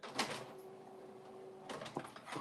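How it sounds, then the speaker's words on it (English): A copier machine running indoors gives a steady mechanical hum with a fixed tone for over a second, then breaks into a few louder clunks and rattles near the end. "it's my copier going off"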